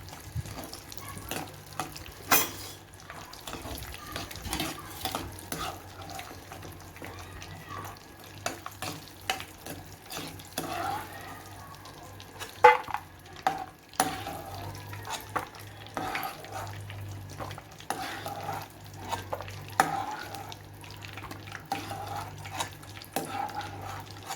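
Cashews and pistachios frying in ghee for Bandar laddu, a steady close sizzle under constant stirring, with scattered scrapes and clinks of a spoon against the pan throughout.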